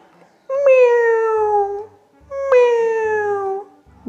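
A domestic cat gives two clear, drawn-out meows in close succession, each loud and near with a falling pitch, separated by a brief pause and with no talk over them.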